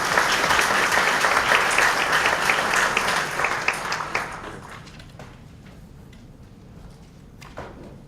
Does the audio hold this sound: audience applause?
yes